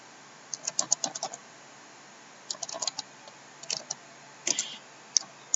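Typing on a computer keyboard in short bursts of crisp, close key clicks separated by brief pauses, no voices.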